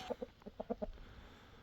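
A hen clucks in a short series of soft, quick clucks, about seven in a row, fairly close, then falls quiet.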